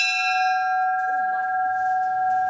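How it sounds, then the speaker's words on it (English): A large bell at a Union Pacific railroad site in Lincoln or Laramie rings out once loud and close, its long metallic tone sustaining and slowly decaying over steady background noise. "So they have a bell here, and Susan's gonna ring it."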